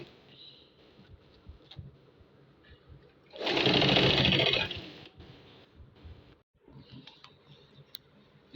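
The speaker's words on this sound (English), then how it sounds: "I want to start sewing it now." A sewing machine stitches a pencil puff sleeve to the armhole in one loud, steady burst of about a second, set between quieter handling noises and light clicks close by.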